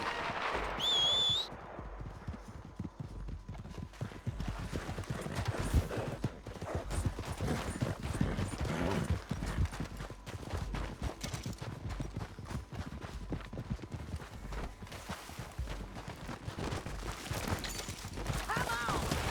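Horse hooves clip-clopping in Red Dead Redemption 2, a continuous steady gait across open ground with a whistle at the start and faint voices and game ambience around it.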